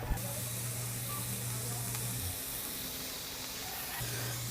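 Garlic hits hot oil in a pan where onions were softening for pork pata estofado, giving a soft, steady sizzle and hiss with a low hum underneath, fairly quiet and close.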